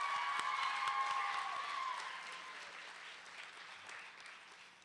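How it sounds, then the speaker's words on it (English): Sustained applause from the audience at a student media awards night after filmmakers are honored, dense steady clapping with a bright whistle or cheer near the start, gradually fading toward the end. "let's give just a giant round of applause to everyone that has made a film tonight"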